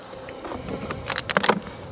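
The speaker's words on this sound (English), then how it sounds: "Lots of bees. Lot of bees." Honey bees humming in an opened hive box, a soft continuous drone overlaid near the end by a few brief, louder buzzes from bees flying close past.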